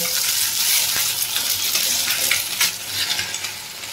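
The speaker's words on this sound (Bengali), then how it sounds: "তেলের মধ্যে আমি ডিমটা ফাটিয়ে দিয়ে দিচ্ছি" An egg cracked into hot oil for a Bengali bitter gourd and egg scramble sizzles steadily and close, with light stirring scrapes and a few small clinks over the hiss.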